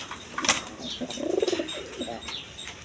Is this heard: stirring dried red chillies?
no